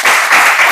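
A classroom of students claps together, a short burst of dense, loud applause under a second long.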